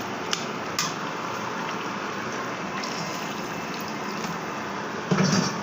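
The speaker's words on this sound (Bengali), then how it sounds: "আমি ফুটনো পানি দিয়ে দিলাম" Boiling water is poured into a pan of thickened fish curry that had started sticking to the bottom, giving a steady gushing, sizzling hiss that runs for several seconds, followed by a brief clatter near the end.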